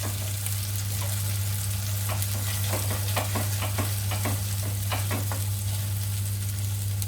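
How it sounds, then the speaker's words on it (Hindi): Onion and tomato masala sizzles steadily in a pan, a constant loud frying hiss with a low hum beneath and scattered scrapes and taps of stirring, with no talking. "इसको मैं 1 से 2 मिनट फ्राई करूँगी, क्योंकि वो ऑलरेडी प्याज और टमाटर फ्राई हैं।"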